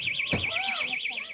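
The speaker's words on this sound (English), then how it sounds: "They're stealing and the alarm is sounding." A store alarm at a swap meet wails steadily during a robbery, its rapid warbling electronic tone repeating without pause. A sharp thud cuts in near the start and a faint voice sounds beneath.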